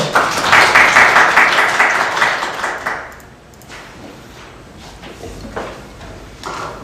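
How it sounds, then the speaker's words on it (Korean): Audience applause at an academic conference on generative AI and art greets a guest speaker, dense and loud for about three seconds before fading into room noise, with a few scattered knocks and shuffles. "큰 박수로 맞이해 주십시오"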